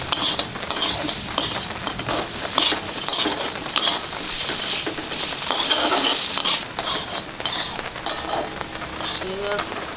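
Yam greens seasoned with turmeric and salt are fried and stirred in a pan, with bursts of spatula scraping and clatter over a continuous sizzle, close and fairly loud throughout.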